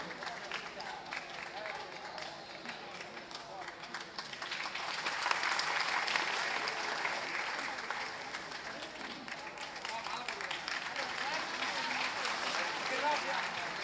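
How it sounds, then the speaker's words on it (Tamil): Audience applause at a political speech event in Tamil Nadu: sustained crowd clapping throughout, swelling slightly midway, with voices mixed in underneath. "உங்கள் கரகோஷங்களுக்கு மத்தியில்"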